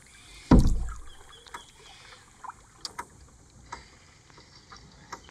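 A kayak paddle works a river, opening with a loud splash and followed by soft, spaced dips and drips of water nearby.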